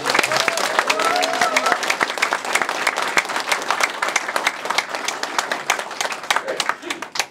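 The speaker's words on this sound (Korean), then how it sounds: "뜨겁고 열렬한 박수를" Warm, enthusiastic applause from party members at a political gathering in Gwangju, a loud, sustained crowd clapping with sharp individual claps standing out, a voice briefly heard through it early on, thinning slightly toward the end.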